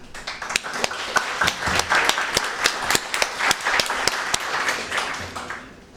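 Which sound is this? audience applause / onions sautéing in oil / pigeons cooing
audience applause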